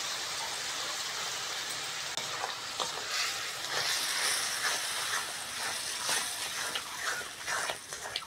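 A spice masala of garlic, tomato, turmeric, chilli powder and salt fries in a pan with a bright, crackling sizzle, while stirring strokes sound throughout.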